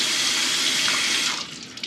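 Tap water running over a King C Gillette safety razor to rinse off soap, a steady close rushing hiss that thins and tapers near the end.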